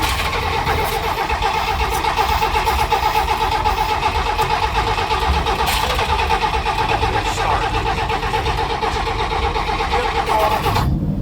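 The engine of a $10 million car cranks and sputters without starting, a loud, steady mechanical churning that continues for the whole stretch and then cuts off abruptly near the end.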